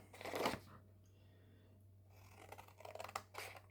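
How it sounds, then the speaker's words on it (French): Scissors cut around the outline of a paper box for a newborn keepsake craft, giving quiet, close snips and crisp paper rustles in a few short bursts with pauses between. "je vais déjà couper le contour"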